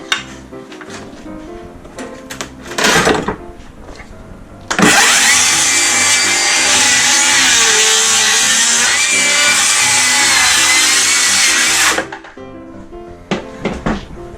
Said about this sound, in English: So I'm just gonna have to use my circular saw.